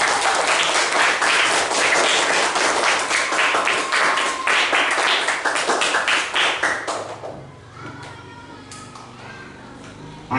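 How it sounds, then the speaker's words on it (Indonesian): Loud, lively clapping from students in a classroom, dense and close for about seven seconds before tapering off into quiet room sound. "Tepuk tangan untuk kalian semua."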